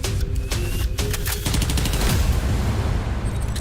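Rapid automatic gunfire from CS:GO weapons, dense bursts of loud cracks that blur into a continuous rattle, close and with no talking.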